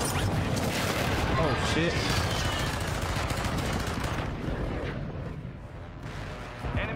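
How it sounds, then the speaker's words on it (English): Airstrike explosions and rapid gunfire in a video game pound loudly and continuously, booms and bursts blending into a dense roar that eases slightly toward the end, while a voice briefly reacts over the chaos. "Friendly airstrike in the AO."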